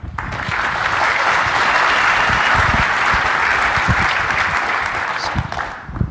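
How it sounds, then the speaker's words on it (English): Conference audience at KubeCon giving a big round of applause for speaker Evan Brown: loud, dense clapping from many people that holds steady for several seconds, then tapers off. "let's give a big round of applause to Evan Brown"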